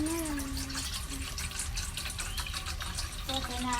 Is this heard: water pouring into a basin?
yes